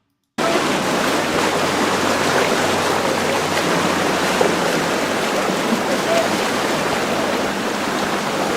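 Boat pushing upstream against a river current, with a steady broadband rush of water and hull wash that continues unbroken, loud and close, after a brief silent start.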